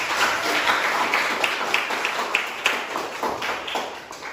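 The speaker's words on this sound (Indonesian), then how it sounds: "Tepuk tangan anak-anak untuk." Schoolchildren in an Indonesian classroom clap for a classmate, a moderate burst of scattered hand claps that tapers off toward the end.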